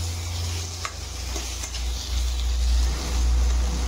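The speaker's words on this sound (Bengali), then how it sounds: "এখন টমেটোটা ভালো করে ভাজা হয়ে গেছে" Tomatoes frying and being stirred in a pan for a potato and drumstick curry, a steady close sizzle with scraping stirs over a continuous low hum, no talking.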